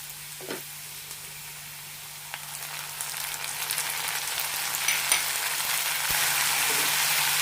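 Ginger garlic paste is added to a hot oiled pan for a radish curry and is stirred, giving a soft sizzle that grows into a louder, steady frying hiss with occasional scrapes.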